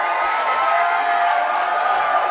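Wrestling arena crowd cheering and shouting steadily, a dense roar holding loud and unbroken throughout with no clear individual voices.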